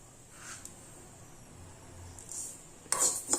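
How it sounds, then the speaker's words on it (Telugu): Mustard seeds roasting with fenugreek seeds in a dry pan give a faint, low crackle, then a short cluster of sharper pops and spits near the end. "ఆవాలు చిట్టుపట్లు ఆడుతున్నాయి కదండి, ఇప్పుడు ఇవి వేగిపోయినాయి"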